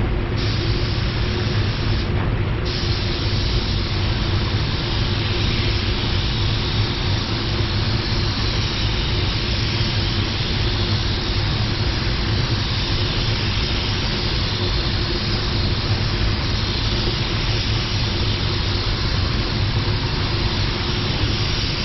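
A spray gun at 27 PSI lays a final control coat of paint over a whole car, giving a loud, steady hiss of air and atomised paint that runs unbroken for the full stretch with only a brief dip near the start.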